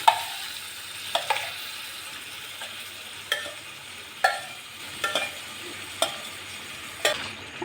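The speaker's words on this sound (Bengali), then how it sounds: "এখন ম্যারিনেট করে রাখা সোয়াবিন এর মধ্যে দিয়ে দেবো।" Marinated soybean chunks stir-fry in spiced oil, a soft, steady sizzle broken by sharp scrapes and clatters of a spatula against the pan, recurring about once a second.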